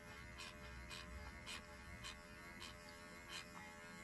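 A tattoo machine running 36 needles at once while tattooing a face, giving a steady close electric buzz with a low hum and regular brief swells roughly every half second.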